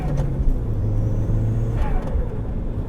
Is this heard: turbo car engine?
yes